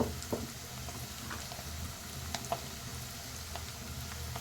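Onion fries in oil with a faint, low, continuous sizzle and a few light pops, quiet and close, with no voices.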